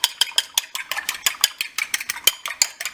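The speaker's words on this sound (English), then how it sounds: "by beating it up with a fork." An egg being beaten with a fork for an egg wash, a quick, even series of sharp metallic taps against the bowl, close and clear, with no one talking.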